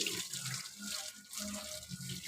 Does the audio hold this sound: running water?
yes